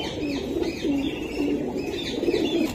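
Racing homing pigeons (Giribaz) at a loft cooing in low, repeated rolling calls, several birds close by, with faint higher chirps in the background.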